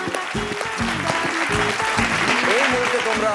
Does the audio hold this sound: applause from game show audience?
yes